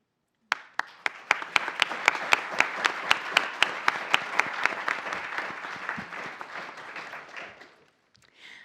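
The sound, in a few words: audience applause for mayoral candidates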